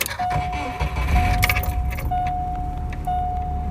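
Keys jangle as a Subaru Impreza 2.5RS GC8 is switched on, close metallic rattling followed by a steady electronic tone repeating in short beeps over a low idle hum, no voices.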